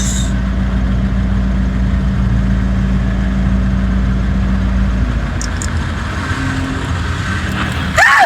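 Idling car engines sit in a traffic jam, a steady low hum that holds and then thins out, with a brief clatter near the end.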